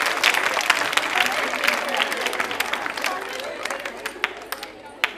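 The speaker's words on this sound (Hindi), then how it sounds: "तालियां जोरों से बजाइए।" An audience at a college quiz show in a hall claps loudly in a full burst that gradually thins into scattered individual claps, with some crowd chatter mixed in.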